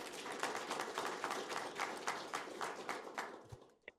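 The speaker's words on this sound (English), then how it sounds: "So round of applause for Anderson." Audience applause at a talk on wealth and wisdom, a fairly quiet room of scattered claps that thins out and fades by the end, with no one speaking.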